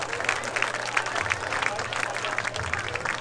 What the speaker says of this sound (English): Let's have a round of applause for all these Mission Final Four and state championship accomplishments